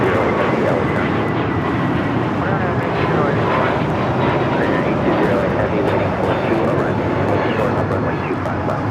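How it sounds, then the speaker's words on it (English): A Hawaiian Airlines Airbus A321neo takes off from LAX bound for Honolulu, its loud, continuous engine roar filling the scene at close range while people talk over it. "A321neo taking off to Honolulu"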